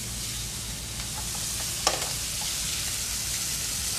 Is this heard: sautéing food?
yes